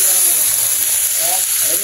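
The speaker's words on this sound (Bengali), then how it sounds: "মাংসগুলা দিয়ে দিম এখন।" Meat dropped into a pan of fried onions in a village kitchen sets off a loud, steady sizzle and hiss, constant and close for the whole stretch with no pauses.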